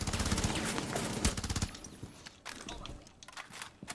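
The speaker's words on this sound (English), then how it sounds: "I saw them bullets flying towards your head" Rapid automatic gunfire in a bomb-defuse video game match, dense bursts of fast shots up front, then sparser scattered shots and clatter further back.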